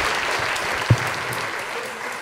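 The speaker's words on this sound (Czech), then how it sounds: "Zatleskejte mu, prosím vás, on to má hrozně rád." Steady, dense applause from an audience greeting a violin teacher at an autumn music workshop, a continuous wash of many hands with one slightly louder clap standing out midway.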